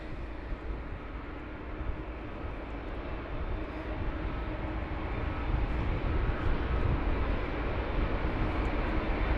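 An Airbus A320neo jet departing London Heathrow in wet, spray-heavy weather gives off a broad, steady engine roar that builds slightly louder toward the end.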